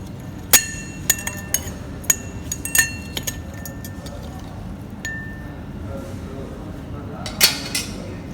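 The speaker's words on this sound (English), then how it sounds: "Mix it nicely once all the ingredients are added with a cocktail spoon or a bar spoon" A bar spoon stirs a cocktail in a glass, giving sharp, bright clinks at uneven intervals over a low room hum, with no one speaking.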